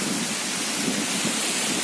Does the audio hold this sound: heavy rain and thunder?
yes